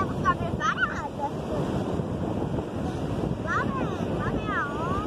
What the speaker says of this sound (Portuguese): Lá vem a onda.